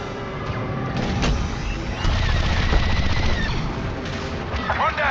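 Rapid blaster gunfire crackles in sustained, overlapping volleys during a Star Wars Battlefront 2 battle, loud and dense, with occasional rising whines and bursts layered over the shooting.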